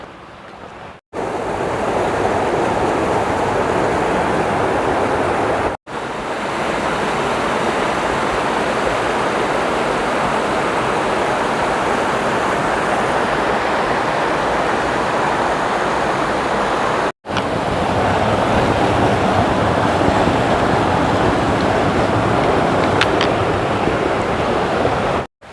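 A river rushes steadily beneath a woodland footbridge at a water crossing on the Appalachian Trail, a continuous loud broadband wash of flowing water with only brief gaps, and no talking.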